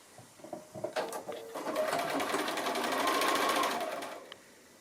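A sewing machine chain-piecing rows of a house sampler quilt block starts with a few short stitches, then runs in a steady, rapid whir for a couple of seconds before slowing to a stop.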